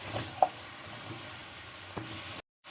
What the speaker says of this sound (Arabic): هتقعدي تقلبي كده في قلب العدس كده